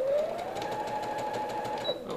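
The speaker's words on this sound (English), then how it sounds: "as you're getting to the bottom, you're going to want to backstitch" A sewing machine backstitching a maxi skirt seam, running in a steady close whirring hum with a fast even needle rhythm and a brief squeak near the end.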